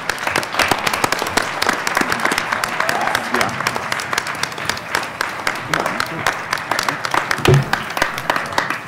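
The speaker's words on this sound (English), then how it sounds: "Please come on up so you can get a round of applause." Applause at a board of directors meeting honoring high school staff, a steady room-filling clatter of many hands that holds for the whole stretch, with scattered voices mixed in.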